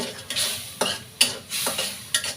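Spices and potatoes being stirred and fried in a pan for a pangas fish curry, with several sharp scraping strokes of a spoon over a steady close sizzle.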